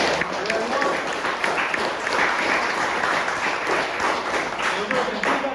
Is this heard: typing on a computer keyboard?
no